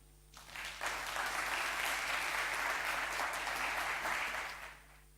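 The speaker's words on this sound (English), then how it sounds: "Can I have another round of applause, please, for Paula?" A lecture audience applauds speaker Paula Kiel after her talk. The dense, steady clapping swells quickly, holds for several seconds at a soft distance and then tapers away, with no voices on top.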